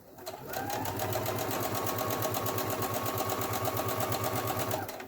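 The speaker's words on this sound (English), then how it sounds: "So now we're going to top stitch the sides of the liner." A sewing machine top stitches the sides of a fabric mask liner, running at a steady, rapid, close mechanical chatter that continues without a break for several seconds.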